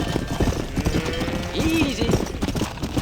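Horse hooves clip-clop at a steady walking rhythm in the Western game Red Dead Redemption, close and fairly loud, with a voice speaking briefly over the steps.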